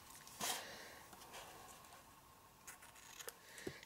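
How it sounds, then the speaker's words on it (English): Scissors trim a ribbon on a decorative gift box, a few soft, faint snips close by against a quiet room. "Trim your ribbon down."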